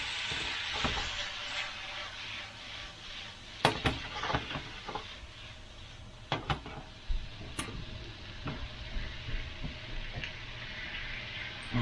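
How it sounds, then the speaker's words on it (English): Garlic frying in a pan for a steak-and-peppers dish, a steady close sizzle with occasional sharp scrapes and clinks of stirring against the pan. "I'm gonna cook that garlic here."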